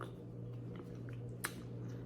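Crunchy fried pork chicharon is chewed close up in a quiet room, soft crunching and mastication with one sharper crisp bite partway through.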